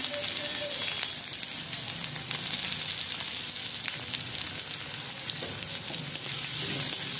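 Chopped onions sizzle steadily in hot oil in a Bengali kitchen, cooked after whole garam masala for ghugni, a curried yellow pea snack, with a continuous close crackle and soft scattered pops throughout.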